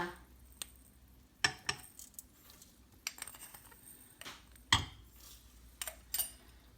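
Boiled, drained potatoes are mashed with salt in a bowl: soft scraping and squishing broken by several sharp clinks of utensil against bowl, quiet and close, with no talking.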